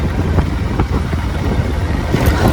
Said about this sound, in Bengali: আমি বাইকটা নিয়ে বেরিয়েছি, রাইড করবো বস